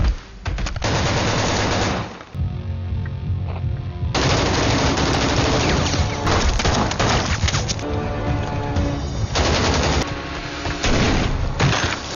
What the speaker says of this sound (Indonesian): Setelah itu terjadilah baku tembak